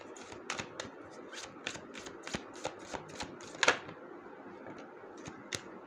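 Tarot cards are shuffled by hand in a quick, steady run of crisp riffling flicks, close and fairly soft, with no talking.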